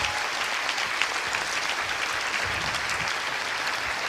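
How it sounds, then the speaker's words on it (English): Audience applause fills the stretch steadily and loudly from start to finish, a dense wash of many hands clapping with no voices on top. "Give them both a big round of applause."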